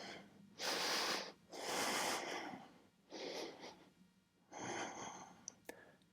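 Slow, deep breaths taken during a yoga flow, four long airy inhales and exhales close to the microphone, separated by quiet pauses.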